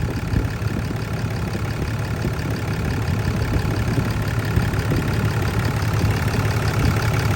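Cummins 6.7 diesel engine in a 2007.5–2012 truck idling with an EGR standpipe leak, a steady, rumbling low clatter heard up close and continuous throughout, with no talking.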